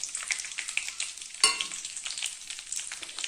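Chana dal, peanuts and cashews fry together in hot oil for lemon rice, a bright crackling sizzle close by with one sharp metallic clink partway through.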